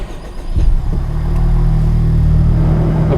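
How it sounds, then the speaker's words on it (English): A 2016 Honda Civic Type R with a 2.0 VTEC turbo engine cranks briefly, catches with a loud burst, then settles into a steady close idle hum. "I'm just going to start the car"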